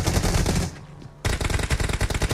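Automatic gunfire in a competitive first-person shooter game scrim: a loud, close rapid burst, a brief near-silent pause, then another sustained rattling burst.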